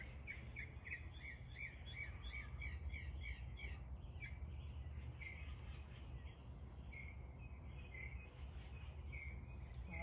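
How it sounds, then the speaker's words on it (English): Several birds, including orioles, doves and finches, chirp and sing in repeated bright, quick phrases over a steady low outdoor rumble, fairly distant and soft, with roosters and chickens nearby. "And here's so many birds."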